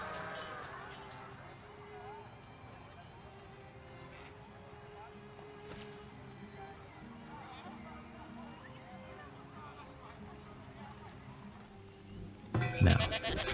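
Goats bleat in the Farthest Frontier video game, short bleats scattered over a quiet ambient game bed, with a louder burst of sound near the end.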